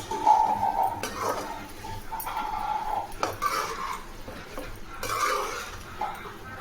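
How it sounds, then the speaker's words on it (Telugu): Tripe pieces fry with chili powder in a pan while being stirred, producing continuous close scraping and clattering of a spatula against metal over a faint sizzle. "కారంలోని పచ్చివాసన పోయేంత వరకు ఒక రెండు మూడు నిమిషాల వరకు కూడా వేయించుకోవాలి"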